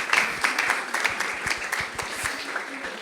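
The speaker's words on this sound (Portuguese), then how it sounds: "Uma salva de palmas." A talk show audience gives a moderate round of applause, many hands clapping at once in an even, sustained patter that carries on for a few seconds.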